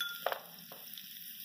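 Green chilli pieces sautéing in a pan for dahi bhindi, giving a soft steady sizzle with a couple of brief stirring scrapes near the start, quiet and close with no talk.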